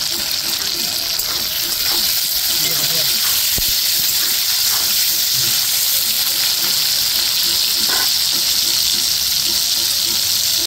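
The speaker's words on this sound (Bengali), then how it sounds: "পটলটা আমি হালকা লাল লাল করে ভেজে নিয়েছি" Pointed gourd (potol) pieces fry in oil with a loud, constant hissing sizzle close by, broken by faint scrapes and clicks, while a voice speaks softly underneath.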